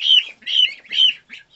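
Five-week-old African guinea fowl keets give loud, close, shrill piping calls, about four peeping bursts in quick succession, alone with no talk.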